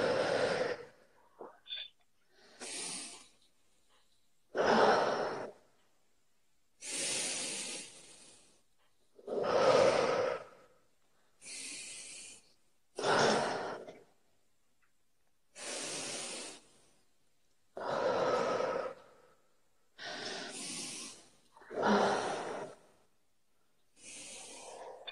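Slow, deep breaths during a breathing exercise, each inhale and exhale heard close as an airy rush, repeating about every two to three seconds with quiet gaps between.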